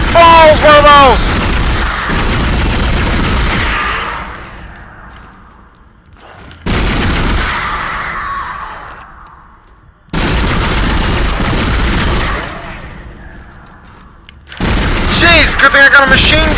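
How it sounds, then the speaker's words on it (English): Heavy automatic gunfire erupts in Dead Space in three or four loud sustained bursts separated by brief echoing lulls, with a voice speaking between them. "good thing I got a machine gun!"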